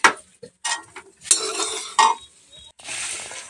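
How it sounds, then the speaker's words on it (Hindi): A kadhai wok is set on a gas stove with metallic clanks and scraping knocks, several short bursts then a soft sizzling hiss toward the end, no talk. "तो यहाँ पर हम कढ़ाई चढ़ा दिए हैं"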